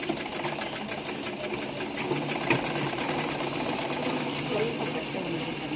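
Fast, steady mechanical rattle of a sewing machine stitching a cloth vegetable bag, running continuously close up while someone talks over it.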